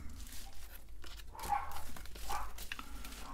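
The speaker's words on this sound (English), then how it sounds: "they are just gonna keep barking and keep barking." Dogs bark a couple of times, faint and somewhat distant, against a quiet indoor background.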